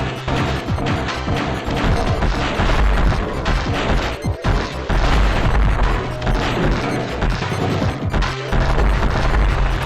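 Missiles explode in a Metroid Fusion game session, heavy crashing blasts and booms that come in quick bursts over a dense rumble and fill the whole stretch.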